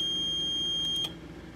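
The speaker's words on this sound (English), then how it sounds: "You can see number two wired up to a buzzer, and the buzzer is annoying as hell" A steady, piercing electronic buzzer wired to a Tasmota-controlled cat feeder sounds loudly and continuously, then cuts off abruptly near the end, leaving a low background hum.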